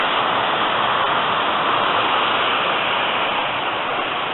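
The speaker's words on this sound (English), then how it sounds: "There's a series of waterfalls" A series of waterfalls in a valley near Ffestiniog in Wales gives a loud, steady, unbroken rush of falling water that fills the whole stretch with no voices.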